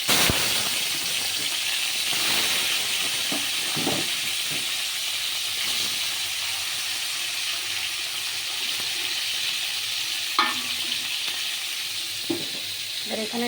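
Fish sizzling and frying steadily in hot oil with kalo jeera and green chilli, a continuous loud hiss with a few sharp crackles and spits, no talking.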